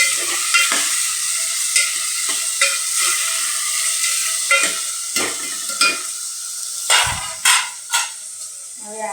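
Vegetable curry tempering sizzles steadily in a pan close by, with repeated sharp clinks and scrapes of a spoon stirring against the pot.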